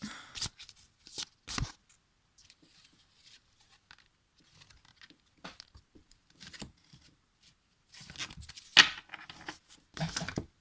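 A deck of cards being shuffled up close, with bursts of quick riffling flutters and soft slaps separated by quiet pauses, fairly faint overall.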